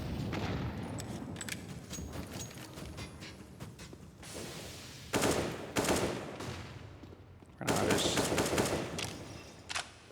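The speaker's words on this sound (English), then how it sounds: "Wildly firing shots off is Kenny." Rapid bursts of gunfire in a Counter-Strike Deagle round on the Train map, loud volleys clustered around the middle and end, layered over steady commentary talk.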